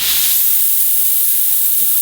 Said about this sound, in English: I was just shooting that steam through everything